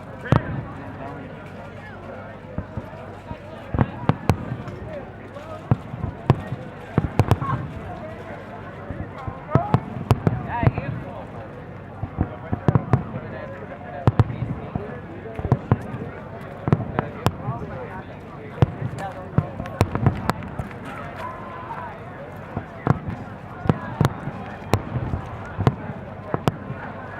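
Fireworks at the 2013 National Boy Scout Jamboree, a long run of scattered pops and bangs at varying distances, under a crowd's murmur and nearby voices.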